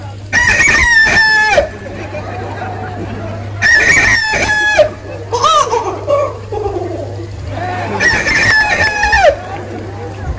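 A man on an Assamese comedy stage imitates a rooster crowing with his voice, giving three loud, drawn-out cock-a-doodle-doo calls. Shorter clucking and squawking noises come between them, and a steady low hum runs underneath.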